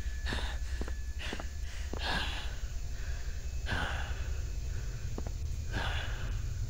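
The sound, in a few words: player character breathing while running, from video game SCP Containment Breach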